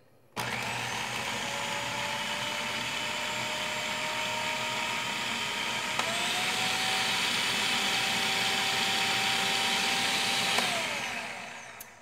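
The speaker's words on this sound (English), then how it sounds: "we're going to turn the machine back on until this is completely incorporated" A Cuisinart FP-8SVTW 8-cup food processor whirs steadily and loudly for about eleven seconds, with a slight change in motor pitch midway as the speed setting shifts, then cuts off.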